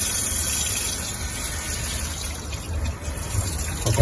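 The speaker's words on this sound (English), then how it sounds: "Then rinse it with water." Running tap water pours steadily while chicken innards are rinsed in a kitchen, a continuous close gushing splash with no speech.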